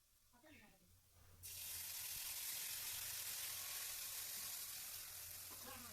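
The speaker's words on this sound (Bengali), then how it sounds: "চাটনিটা বানানোর জন্য কড়াইতে সাদা তেল গরম করে রসুন কুচি দিয়েছি।" Chopped garlic hits hot white oil in a wok with a sudden loud, steady sizzle that keeps up without a break. Quieter stirring and kitchen noise come before it.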